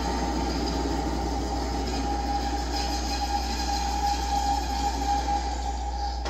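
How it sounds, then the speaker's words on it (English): A homemade ambient instrument made of springs with a piezo pickup, bowed and run through a boost pedal, gives a steady, loud scraping drone with a thin squealing whine held for several seconds, with no talking. "So we can run that guy with a bow, we can tap him, get all kinds of cool sci-fi, computer robot sounds."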